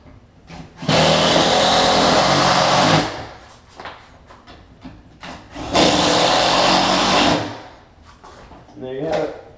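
Two long, loud whirring bursts of a power drill driving screws into a wooden crate table, each lasting a few seconds, with clunks and handling noises between them.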